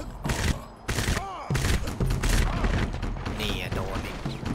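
Rapid bursts of gunfire in the shooter game Crysis Warhead, sharp repeated shots with mechanical clatter, mixed under a player's excited talking.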